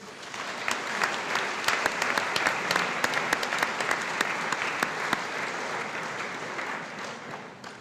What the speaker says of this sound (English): Ladies and gentlemen, let's give these music award recipients a round of applause.